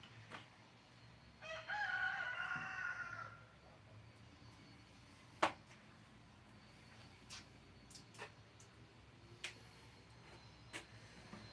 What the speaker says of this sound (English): Damn roosters, man.